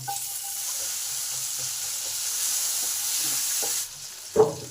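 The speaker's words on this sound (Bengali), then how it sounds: "কালো জিরে আমার ভাজা হয়ে গেছে এবার একটা টমেটো কেটেছি সেটা দিয়ে দিলাম" Tomato pieces dropped into hot oil already frying nigella seeds and green chili for Bengali begun basanti, giving a steady close sizzle with light stirring and a brief louder splutter near the end.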